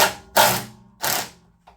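A ratchet wrench turns on a John Deere LX178 lawn tractor during a throttle cable and brake lever repair, giving two sharp, close bursts of clicking followed by a fainter third click.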